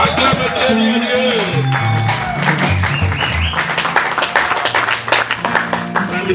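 Church congregation at an evangelical service applauding and cheering, loud dense clapping with crowd voices and music throughout.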